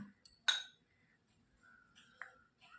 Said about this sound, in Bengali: এই দইয়ের মধ্যে এটাকে মিশিয়ে নেব